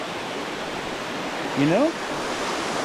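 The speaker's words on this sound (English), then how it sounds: "I have my own personal waterfall." Waterfall at Beavers Bend State Park in Oklahoma, a steady broadband rush of falling water filling the whole clip, with a person speaking briefly over it near the middle.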